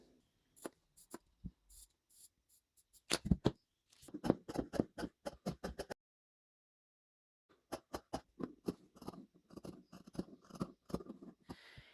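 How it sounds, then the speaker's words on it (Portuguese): Fabric cut on the fold with scissors while sewing the back piece of a racerback bra, a quick run of crisp close snips, a pause, then another burst of snipping. "Tem que cortar na dobra do tecido."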